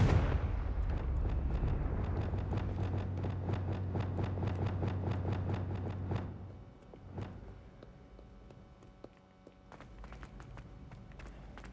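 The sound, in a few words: Confringo blasting curse explosions in Hogwarts Legacy video game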